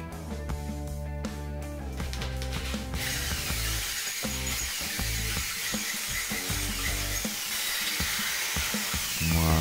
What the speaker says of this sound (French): c'était le moment de ressortir la perceuse. J'ai décidé d'agrandir le trou